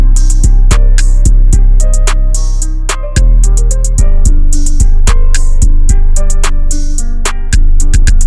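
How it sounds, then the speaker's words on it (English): A piano melody laid over a beat, with sharp rhythmic attacks and sustained notes, some passages played in reverse, loud and with no voices. "another piano melody is added, with some reverse sections of this piano melody in"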